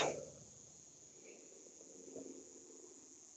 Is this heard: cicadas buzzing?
yes